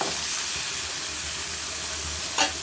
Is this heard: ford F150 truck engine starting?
no